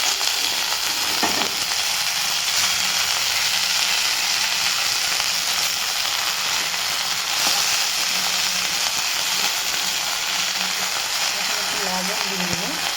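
Garlic and coffee leaves sizzle and crackle loudly in a hot pan, a close, continuous frying hiss with occasional stirring clicks.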